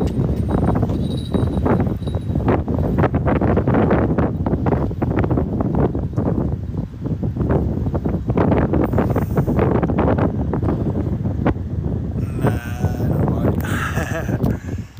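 Strong, gusty wind buffets the microphone by the Thames at the Thames barrier in London during fishing. The roar is loud and continuous throughout, with a few brief higher sounds near the end.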